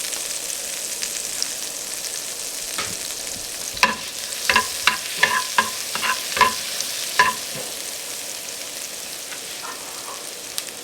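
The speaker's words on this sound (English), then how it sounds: "We're just going to fry this for just a few minutes" King oyster mushrooms frying in a little butter in a pan, a soft sizzle with a cluster of clacking stirs and scrapes in the middle, close and without talk.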